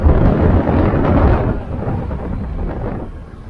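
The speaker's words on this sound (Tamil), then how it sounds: "மழை பெய்யுற மாதிரி ஆயிடுச்சு" Thunder rumbles heavily over steady rain on a hill road near Ooty, a loud rolling peal that fades after a second and a half into softer rain.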